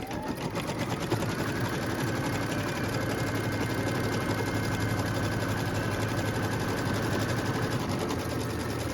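A sewing machine stitches a template for pieces of fabric for a quilt block, running with a steady, continuous, rapid mechanical chatter throughout, close and even, with no voices.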